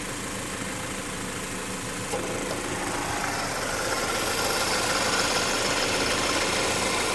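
A Chevrolet Malibu engine runs with a noisy AC compressor, a constant close mechanical whirring and rattling drone that grows slightly louder partway through, with no talking.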